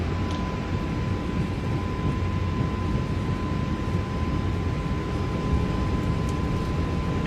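Airbus A320neo engines at takeoff power during the takeoff roll, a loud, steady broadband roar with a sustained tonal whine running unbroken throughout, no voices.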